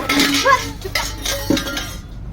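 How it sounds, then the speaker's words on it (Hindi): Dishes and utensils clink and clatter as they are picked up, several short bright knocks over about two seconds in a household kitchen, with a voice faintly underneath. "चल उठा बर्तन"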